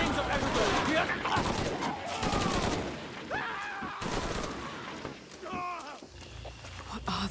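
Gunfire in the video game Shadow of the Tomb Raider, with bursts of fusillade and rapid shots throughout, loud and close amid chaotic combat noise, with voices shouting over the action.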